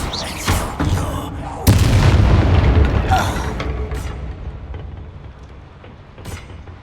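A Confringo explosive spell detonates in Hogwarts Legacy with a sudden loud boom, followed by a rumbling tail that slowly fades, with a few smaller pops and impacts around it.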